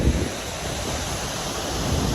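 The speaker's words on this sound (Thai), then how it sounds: "บรรยากาศดีมาก เป็นม่านน้ำตกนะฮะสวย" Broad, steady roar of falling water at Tad Fane / Sae Pong Lai waterfall in southern Laos, a continuous dense wash close by with wind buffeting the microphone and no voices.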